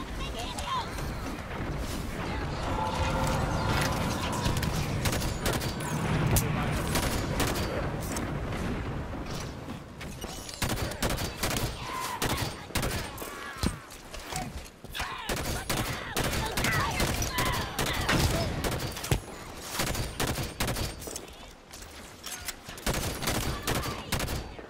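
Bursts of automatic weapon fire and explosions fill a Halo 5 battle against Covenant forces, rapid loud volleys repeating throughout with voices talking in between.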